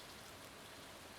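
Rain in the Stardew Valley video game, a soft, even patter of falling drops that stays faint and steady throughout with nothing else over it.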